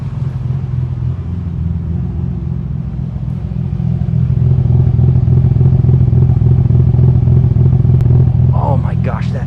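An RB26 engine fitted in a 300ZX rumbles loud and close, rising in intensity partway through, with a brief voice at the very end.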